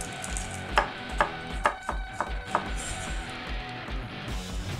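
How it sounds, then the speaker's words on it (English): A knife finely mincing a shallot on a cutting board, heard as a run of crisp, close chopping taps in a loose rhythm, with no talking. "finely mince 1 shallot"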